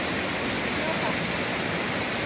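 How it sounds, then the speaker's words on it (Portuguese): A flooded Ipojuca river on a farm in Gravatá rushes in a steady, dense roar of flowing water that fills the whole stretch without a break, loud and close, with no talk over it. "Esse é o rio Pojuca."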